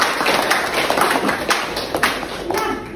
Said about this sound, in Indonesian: Tepat sekali, tepuk tangan.